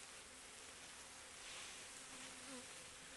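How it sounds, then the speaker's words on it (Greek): Honey bees swarming around a hive during a swarm capture make a dense, continuous buzzing drone that fills the air steadily and evenly throughout. "Εάν είναι απ' έξω θα βγουν αυτές οι μέλισσες."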